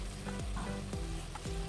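Spiced masala for a mushroom curry frying in a pan, a steady sizzle with sliding scrapes as it is stirred, close and continuous with no talk.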